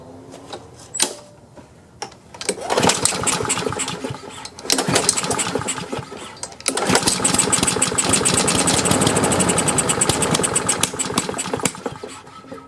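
A Craftsman lawn mower engine with the choke on, cranked several times: short pull-cord bursts, then sputtering attempts that catch into a loud, rough running roar before dying down, all up close.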